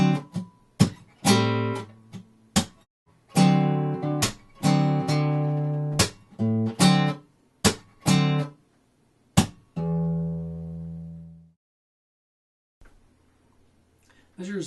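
Acoustic guitar playing measures 5 to 7 of a song at a slow tempo, percussive slaps alternating with strummed chords, ending on a long ringing open low string that fades to near silence.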